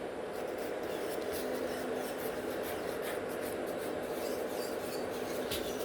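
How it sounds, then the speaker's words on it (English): A tool scratches across the whole surface of a gel nail tip in soft, continuous rasping strokes, close and quiet, with a steady hiss underneath and no talking. "I'm just giving a couple scratches to the entire surface of the tip and then blend the difference."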